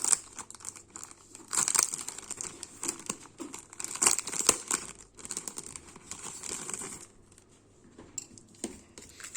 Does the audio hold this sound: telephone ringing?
no